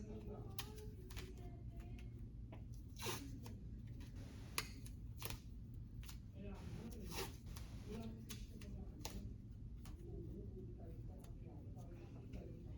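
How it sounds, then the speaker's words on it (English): Medical tape is torn and pressed down around a sterile dressing on all four sides, producing close, soft ripping and rubbing sounds in short bursts over a low background hum, with faint talk in places. "removing my gloves and taping it from all the 4 sides"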